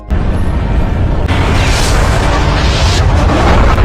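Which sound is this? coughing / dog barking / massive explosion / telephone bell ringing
massive explosion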